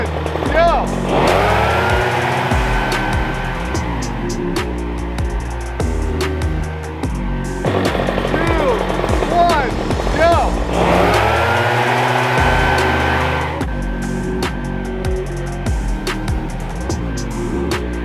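Several gas backpack leaf blowers, among them an Echo PB9010H, roar at full throttle together, a loud, dense engine howl with repeated revs rising and dropping over eighteen seconds, close by and continuous.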